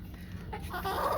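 Broiler chickens kept for slaughter give a short burst of soft, nearby clucking that rises slightly in loudness over about a second.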